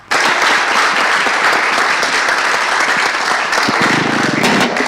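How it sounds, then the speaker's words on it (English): A conference audience applauds a panel in loud, dense, sustained clapping from many people, fading slightly near the end. "Big round of applause for the members of the panel."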